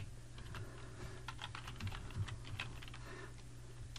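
Typing code on a computer keyboard, with a rapid, steady run of soft key clicks close up and no voices over a low hum.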